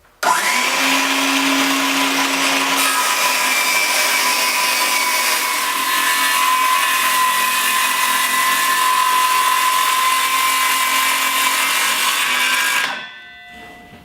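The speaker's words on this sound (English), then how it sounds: "I also am using this jig that is designed to make a clean cut with a circular saw" A circular saw guided by a jig rips through plywood along a taped cut line, one loud continuous whine that holds steady for over twelve seconds before spinning down.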